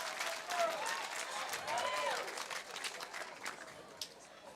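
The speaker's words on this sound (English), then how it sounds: "Wow, the crowd is amazed." Spectators at a women's doubles pickleball match break into applause, a faint spread of clapping and crowd noise from a distance with a commentator's voice over it.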